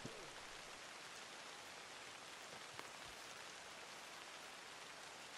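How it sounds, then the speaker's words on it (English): Steady video game rain in Red Dead Redemption 2 pours without a break, a dense even hiss with no voices, constant in level throughout. "Why is it raining?"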